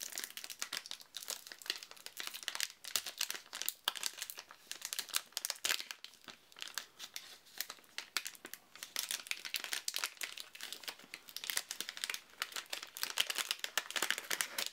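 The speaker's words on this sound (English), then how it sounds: "I'm going to try and carefully open this because it's kind of a big envelope." Large paper envelope holding several game cards being carefully torn and opened, with continuous close crinkling and tearing of paper throughout and no talking.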